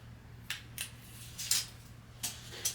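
Adhesive backing peeled off a mirror part, heard as a few faint, separate crinkly rips spread over a few seconds in a quiet room.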